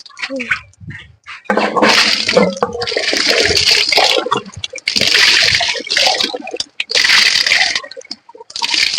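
Water pours and splashes in bursts, loud and close, with short pauses between pours and brief talk near the start.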